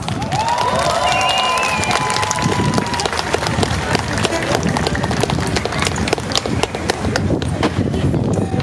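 A festival crowd at the outdoor Karakuz 2023 stage in Almetyevsk breaks into loud, continuous applause and cheering, dense clapping holding steady throughout, with a brief voice and a whistle-like tone near the start.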